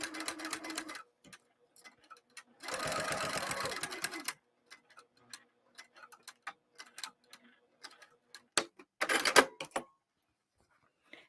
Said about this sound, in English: And I will be back tacking at the top and the bottom.